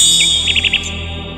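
A nightingale sings as a storybook sound effect, a short bright burst of four quick chirps close up and clear over a faint steady background hiss.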